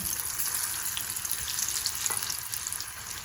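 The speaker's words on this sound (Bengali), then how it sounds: "এর মধ্যে একটা একটা করে সয়াবিন এবারে দিয়ে ভেজে নেব" Soybean chunks fry in hot oil for soyabean chilli, a constant crackling sizzle with small pops, moderately close and fairly soft, with no talking.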